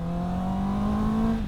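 A Honda CB650R inline-four motorcycle engine revs with a smooth, steady, high-pitched howl that swells slightly, heard up close from the rider's position.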